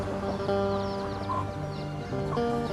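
Native Thai backyard chickens cluck in a steady, close flock chatter, with overlapping calls running throughout.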